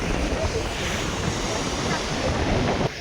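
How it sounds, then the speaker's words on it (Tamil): Large waves breaking and surging on Sanguthurai Beach after rain, a continuous loud roar of surf with wind buffeting the microphone and a brief dip near the end. "மழை பெஞ்சு அலைலாம் ரொம்ப பெரிய பெரிய அலையா வந்துட்டு இருக்குது"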